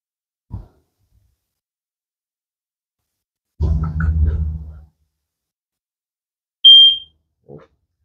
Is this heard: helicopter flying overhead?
no